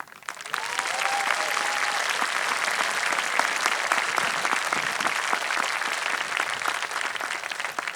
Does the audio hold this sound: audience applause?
yes